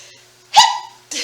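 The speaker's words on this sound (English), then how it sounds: "I touched my nose and I sneezed." A single sharp human sneeze bursts out suddenly, loud and close, trailing off briefly before another short breathy sound, with no talking.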